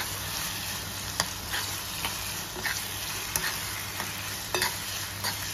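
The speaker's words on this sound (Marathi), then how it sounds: "याला चांगलं परतवून घेऊया." Masala sizzles in a pan while a spoon stirs it, with soft scraping strokes about once a second over a steady frying hiss.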